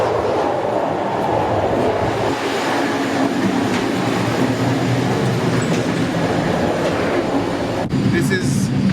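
Loud, steady rumble and rattling inside a moving train carriage travelling from Poland to Ukraine, with wheels clattering on the rails and a sharp click near the end.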